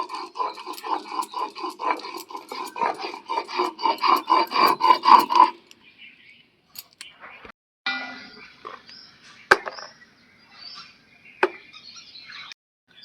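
Ginger is ground into paste on a grinding stone: a rapid run of rhythmic rasping strokes, then scattered scrapes, clacks and a sharp knock as the work slows.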